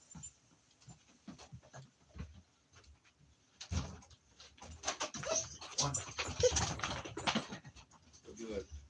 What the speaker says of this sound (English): Apologize, dog alerted on something there.